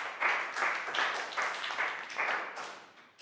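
Pupils in a Year 3 classroom clap for a classmate, a brief and fairly soft run of applause with distinct rhythmic surges of hand claps that fades toward the end.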